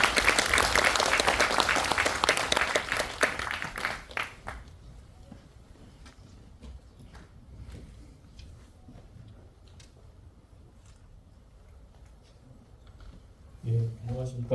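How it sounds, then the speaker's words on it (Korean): An audience at a Korean academic seminar applauds loudly for a few seconds, then the clapping fades out into quiet room tone before a voice begins speaking at the end. "박수 부탁드리겠습니다."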